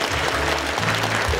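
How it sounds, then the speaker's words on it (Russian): Concert audience applauding, a dense steady wash of clapping that stays loud and continuous for a brief moment, with a faint low hum underneath. "Давайте еще раз поаплодируем, дорогие друзья"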